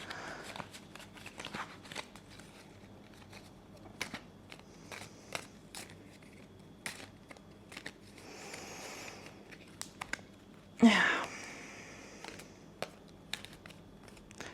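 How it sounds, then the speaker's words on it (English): Soft papery shuffling and light flicks of tarot cards, quiet and close, with one louder brushing burst of shuffling partway through. "Let me give you a little shuffle."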